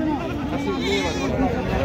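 Bagha Totapari goats bleat at the Baneshwar goat market, with several wavering bleats rising over a dense, constant background of crowd chatter and market noise.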